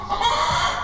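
A rooster clucks on a century-old Ohio farm near barns, giving one close, fairly loud drawn-out call that lasts under a second with no voices.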